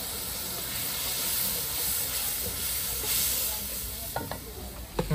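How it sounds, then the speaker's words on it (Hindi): Masala frying in a pot, a steady broad hiss and sizzle that holds for several seconds, then gives way to a few soft stirring knocks at the end. "मसाला हो गया अच्छे से फ्राई"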